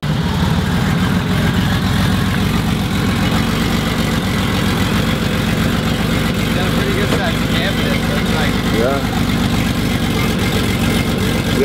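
A turbocharged Porsche 911 engine runs at a steady, loud, deep idle with a lumpy low rumble throughout, people talking over it.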